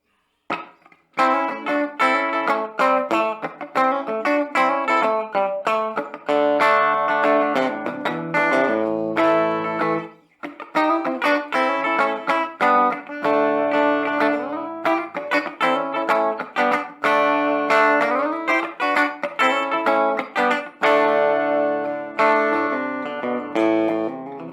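Distorted electric guitar chords and riffs played through an SKB FootNote combo practice amp, with a brief pause midway, fuzzy and buzzy in tone.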